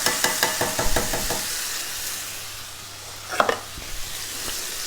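Chilli beef with peppers and canned tomatoes is stirred in a sizzling pan, with quick scraping strokes at the start, a soft sizzle underneath, then a few knocks of the spoon against the pan.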